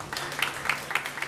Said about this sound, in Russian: давайте поаплодируем нам